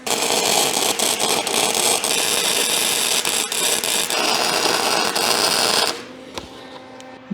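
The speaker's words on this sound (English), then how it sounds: "we're gonna weld up a couple of fairly thick pieces of steel" A Lincoln 140 amp transformer wire-feed welder running at maximum amperage lays a bead on thick steel with a worn wire feeder, giving a loud, steady crackling buzz for about six seconds before the arc cuts off, leaving quiet hum and clicks.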